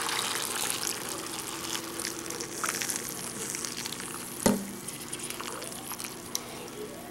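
Simmered sugar-and-water syrup pours over cranberries in a kitchen, a soft continuous liquid gush with a brief clunk partway through.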